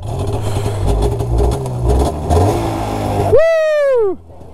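A snowmobile engine revs up strongly and steadily, then a sharp rising whine swells and falls away near the end, loud and close with no talk over it.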